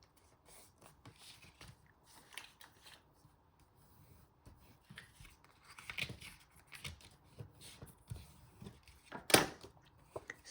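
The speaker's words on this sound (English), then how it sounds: "And then this score line here, do the same. I'm just going to fold that back." Paper card being folded back along a score line by hand, soft close rubbing and creasing rustles in short scattered bursts, with one sharper crinkle near the end.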